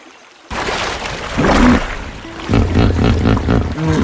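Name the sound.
old male hippopotamus roaring in a swamp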